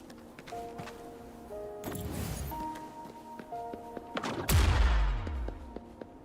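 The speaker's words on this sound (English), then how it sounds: "Perhaps we can create an opening in this disc with an explosion" A tacitite charge blows up in the video game Wuthering Waves, a loud blast with a deep rumbling tail over tonal game music and scattered clicks, preceded by an earlier whooshing burst.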